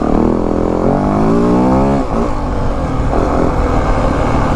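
A 2025 Yamaha WR 450F dirt bike engine revs and drops through downshifts, the loud buzzing pitch rising and falling steadily with quick on-off throttle blips, close and continuous.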